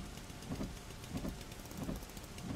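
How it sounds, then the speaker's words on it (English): Heavy rain in the driving game Jalopy, a steady dense hiss drumming on a car with low rumbling underneath, continuous and fairly loud throughout, no talk. "I don't really want to get out of the car because it's raining hardcore"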